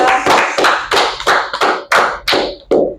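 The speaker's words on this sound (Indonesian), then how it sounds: "Kasih tepuk tangan gak sih buat Us. mereka?" A small studio audience claps for high school graduates during a talk show, a short burst of about eight sharp, separate hand claps spaced unevenly, loud and close, with no talk over them.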